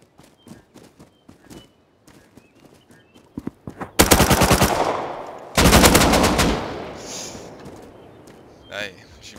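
Rapid gunfire from the survival video game Rust, two loud dense bursts of automatic shots after a few scattered softer pops, with a faint voice nearby.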